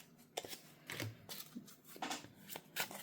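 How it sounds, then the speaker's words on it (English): A couple of playing cards are handled at a desk, giving soft scattered slides, flicks and taps close by, with no one talking. "So I'm going to go ahead and grab a couple cards here."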